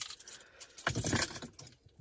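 Car keys jangle briefly inside a vehicle, a light metallic rattling that swells for about a second and fades, fairly quiet and close, with no talking.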